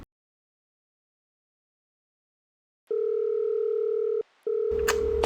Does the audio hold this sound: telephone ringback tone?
yes